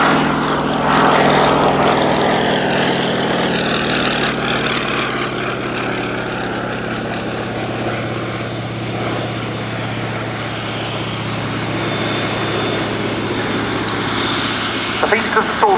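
A Fairey Swordfish biplane at the 2018 Yeovilton airshow drones overhead, its propeller engine a loud, steady roar that swells and fades slightly, with a commentator talking over the aircraft throughout.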